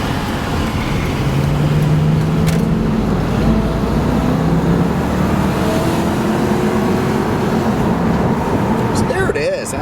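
A 2002 Ford Thunderbird accelerates hard with smooth gear shifts; the engine note climbs steadily under constant loud road and wind noise that fills the whole stretch.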